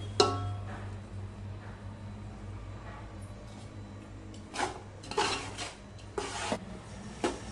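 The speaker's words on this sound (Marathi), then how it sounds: "आता आपण केलेली शेव थोडी थोडी करून घालूया आणि चांगली पाकामध्ये हलवून घेऊया" Sev noodles being stirred into sugar syrup for sev ladoo over a very low flame: faint, intermittent scraping and rustling strokes in a pan, a handful of soft bursts spaced out in a quiet room.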